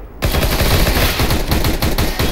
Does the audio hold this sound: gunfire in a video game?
yes